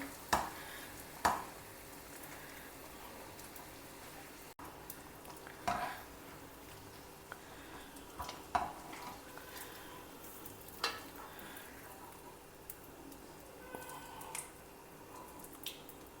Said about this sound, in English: Let them get fried to a lovely, crispy, dark brownish color.